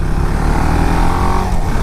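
A 2018 KTM Duke 690 single-cylinder motorcycle engine drones steadily while riding on the highway, loud and close with wind noise, no speech.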